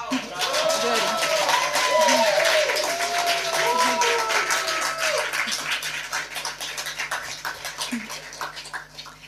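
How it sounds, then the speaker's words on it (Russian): An audience at a Russian poetry reading applauds, steady clapping that gradually thins and fades, while the poet speaks over it. "Спасибо, благодарю, что вы аплодируете"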